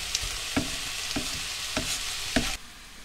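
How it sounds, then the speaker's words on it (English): Food cooking slowly on a weak simmer hob in a motorhome, a soft steady sizzle with four evenly spaced scraping stirs, ending abruptly into near quiet. "It's cooking slowly because I'm only on my simmer hob now, which isn't very powerful"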